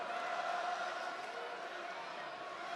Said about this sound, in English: Raucous crowd here tonight in Columbus, Ohio.